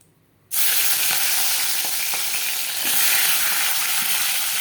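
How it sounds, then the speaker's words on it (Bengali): Fish heads drop into hot oil in a pan, bursting into a loud, steady sizzle that fills the rest of the clip with faint clicks from the utensil. "এই যে মাছের মাথাগুলো এখন ভেজে নিব"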